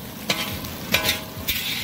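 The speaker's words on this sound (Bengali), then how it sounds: "আমাদের পেঁয়াজ পোস্ত পেঁয়াজ ভাজা চলছে।" Onions frying in a pan at an outdoor riverside picnic cookout, a soft continuous sizzle broken by three brief scraping stirs spaced evenly apart.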